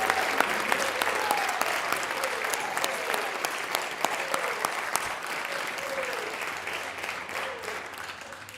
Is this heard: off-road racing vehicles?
no